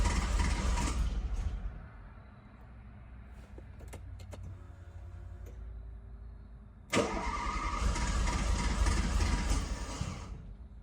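An old exotic sports car, long stored and rotting, has its engine cranked in a try to start it: a loud churning burst, a quieter stretch of clicks and whirring, then a long steady cranking drone.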